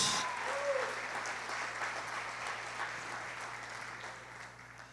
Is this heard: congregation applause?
yes